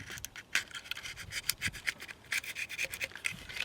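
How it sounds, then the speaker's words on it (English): A knife blade scraping corrosion flat off a GM 3800 engine's thermostat housing surface, a quiet run of short, rasping strokes close up with no talk. "I always like to use a knife. Scrape it completely flat."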